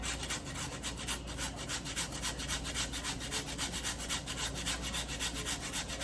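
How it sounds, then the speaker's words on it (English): Fresh ginger is rubbed against a grater in quick, steady, rhythmic scrapes, close and fairly faint, continuing without pause and with no talking. "we're gonna grate in some ginger."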